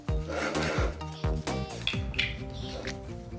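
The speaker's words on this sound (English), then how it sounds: "Okay, I guess you're supposed to rub it." Rubbing and rasping against a plastic toy surprise egg, several squeaky friction strokes in short bursts, close and moderately loud.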